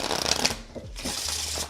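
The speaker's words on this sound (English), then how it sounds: "I'm gonna give a quick shuffle of the deck." A deck of playing cards given a quick shuffle, a short crisp riffling burst heard close up and alone.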